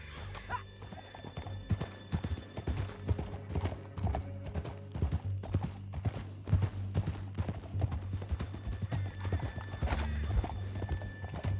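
Rapid hoofbeats of a galloping horse in a video game, steady and close, with an occasional faint whinny mixed in.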